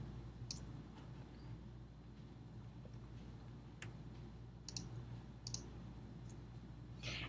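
A computer mouse gives a handful of faint, crisp clicks, spaced irregularly and some in quick pairs, over a low steady room hum while someone animates in Adobe Flash.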